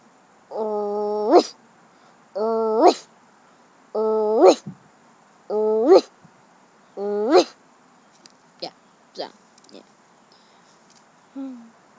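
A person imitates a dog with five drawn-out, whining barks in an even rhythm, each rising at the end, followed by a few short clicks and a brief low sound, close and clear with no other talk.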